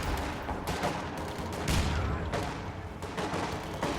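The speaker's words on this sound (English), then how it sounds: "They are hitting me with a mortar though, which is unfortunate." Mortar fire in Company of Heroes 2 against Wehrmacht grenadiers, a steady roar of battle punctuated by several heavy impacts and bursts of gunfire, the loudest thump landing near the middle.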